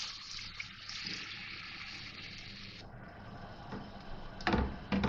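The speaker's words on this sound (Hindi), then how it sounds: "और इसमें पानी डालूँगी।" Water poured from a container into a pan holding raw chicken in a home kitchen, a steady splashing gush that runs for several seconds, thins out, then ends in a few brief louder splashes.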